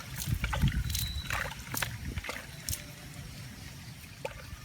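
Water is poured onto freshly potted dieffenbachia in soil, giving close, uneven splashing and trickling bursts that taper off into quieter dribbles.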